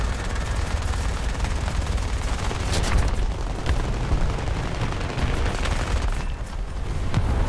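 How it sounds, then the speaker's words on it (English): Dense, continuous gunfire in War Thunder as a bomber is shot down, a loud, rapid stream of overlapping shots and booms that lasts throughout with no voices over it. "Heads up, I'm about to shoot down a bomber."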